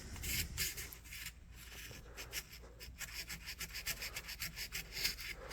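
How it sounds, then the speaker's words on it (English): Continuous rasping scrape of sandpaper rubbed back and forth over a vintage Hammer Brand knife blade during restoration, steady rhythmic strokes up close with no talking. "Maybe I'll just hit it with some sandpaper real quick"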